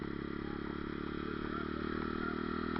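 A Bullit 125 Hero motorcycle engine runs close by at a steady idle, a continuous buzzing drone that grows slightly louder toward the end, with no talking.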